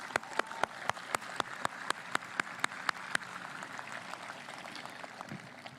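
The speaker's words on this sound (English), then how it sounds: "I just give them a round of applause for all they do for this community" Crowd applause at a high school graduation ceremony, with crisp individual claps from a nearby clapper standing out over a broad wash of clapping that slowly fades.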